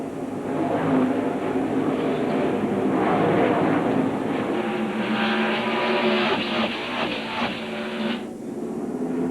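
NASCAR stock cars at the Southern 500 roar past at speed, a loud, continuous engine howl with overlapping passes that swell and fade, ending with a brief drop as the pack moves away.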